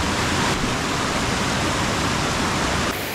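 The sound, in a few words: Netravati river flowing, two streams joining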